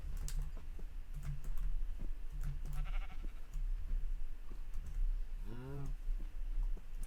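Sheep in a blocky Minecraft-style game give a single wavering bleat near the end, set over steady keyboard typing and clicking with a low background hum.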